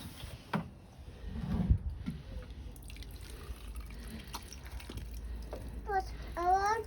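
Water from a can drips and trickles onto a garden plant in soft, irregular patters, with quiet voices talking nearby.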